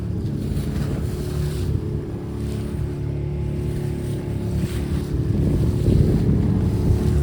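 Rough sea waves wash continuously around a small fishing boat out for traditional rapan net fishing in bad weather, a heavy low rumble of surf and wind without pause.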